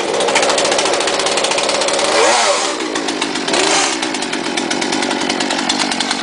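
A Poulan Pro chainsaw runs loud and close with a raspy two-stroke buzz, revving up briefly and easing back before holding a steady high whine.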